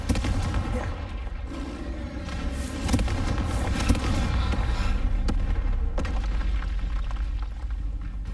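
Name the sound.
Confringo spell effect in the Hogwarts Legacy video game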